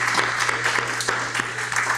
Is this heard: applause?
yes